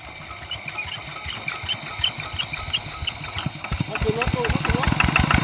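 A walk-behind tractor engine chugs in a rice field with a rapid, even putter that grows louder toward the end, while people talk over it.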